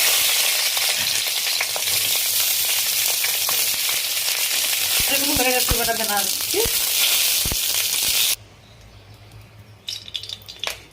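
Eggplant fries in oil in a wok with a loud, dense sizzle and some stirring clatter; the sizzle drops away abruptly near the end, leaving quieter kitchen sounds.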